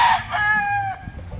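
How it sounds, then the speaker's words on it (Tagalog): A gamefowl farm rooster gives a single loud, close crow with a rising then sustained call, lasting about a second, with faint background clucking. "napakagaganda ng mga manok dito"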